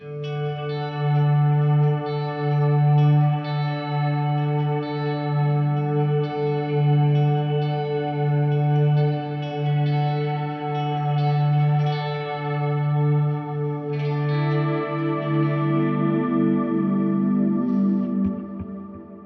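Sustained chords on a double-neck guitar with delay and reverb ring out with lush echoing repeats and wide reverb, a steady pulsing low note underneath and a brighter jangly shift near the end.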